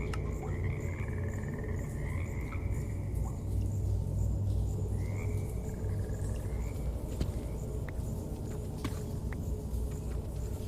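Minecraft frog croaks come in a few short warbling bursts over a continuous bed of low ambience and faint insect chirring, with no voices over the game sound.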